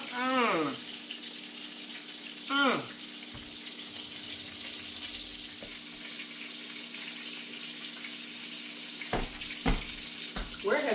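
Onions sizzling and frying in a pan while being cooked for a cube steak, a soft steady hiss under occasional clatter and a few brief tonal sweeps, with no voices over it.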